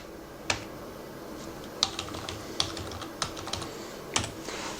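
Keys clack on an Acer Travelmate 202T laptop keyboard, a close, sparse run of individual taps at irregular intervals, some louder strikes standing out against a quiet background.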